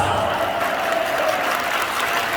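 Audience at a Korean church youth rally applauding, steady dense clapping from a crowd throughout, sustained and even without a break.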